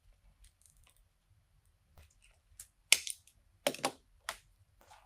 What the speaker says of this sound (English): and zip tie it nice and tight.